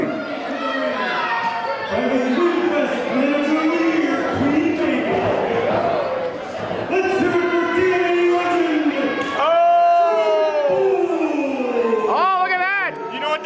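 Capacity crowd at a wrestling show cheering for Shark Boy, a loud sustained roar of shouts and whoops, with an announcer's voice and chanting voices rising over it.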